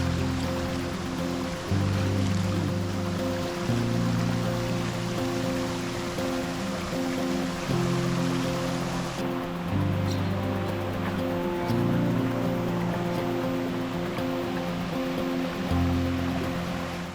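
Rushing water at the top of the Khao Nam Chon waterfall in Nakhon Nayok, a steady broadband roar heard close by, with a low musical background running beneath it throughout.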